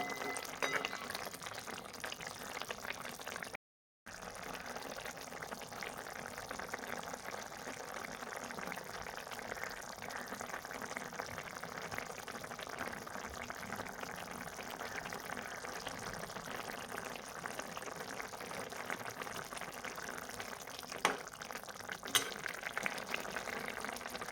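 Soybean vegetable curry simmers covered in a pot on low gas, giving a faint, steady bubbling hiss that continues almost unbroken.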